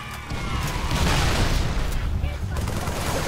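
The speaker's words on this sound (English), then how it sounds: "Grenade after grenade!" Grenades go off in Halo 3 multiplayer combat: a dense, continuous barrage of booms and gunfire blending into a loud roar for several seconds, with no clear gaps between blasts.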